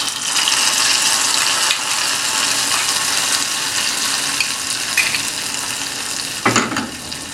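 A hot tempering is poured into Onattukara-style Asthram curry. It makes a loud, steady sizzle and frying hiss that lasts throughout, with a brief splash or stir near the end.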